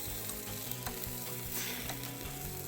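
Wagyu beef sausages sizzle on a barbecue grill in a steady, dense crackle close by, with faint scraping and clicks as they are turned.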